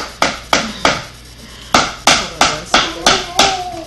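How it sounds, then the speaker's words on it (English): A child knocks a toy on a hard floor, giving eight sharp, evenly spaced clacks with a short pause after the third, close and clear with no talking. "that's my son in the background knocking his toy on the floor"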